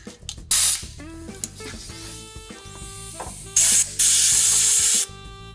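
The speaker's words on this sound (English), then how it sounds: "We're going to hit it with a shot of air." Short hissing bursts of compressed air blown into bolt threads on a 1973 Mustang brake job, two long loud blasts following clinks and handling noises in a workshop.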